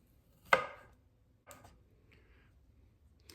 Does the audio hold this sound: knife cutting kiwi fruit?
yes